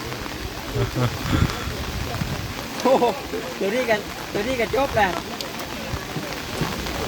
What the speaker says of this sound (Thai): ฝนตก ฝนตกเด้